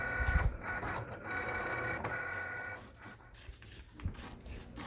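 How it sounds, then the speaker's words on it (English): A Cricut cutting machine slices vinyl name lettering with a steady, close mechanical whirring and motor hum, with small shifts in pitch as the carriage moves and a brief clack near the end. "and then I cut them with my Cricut machine"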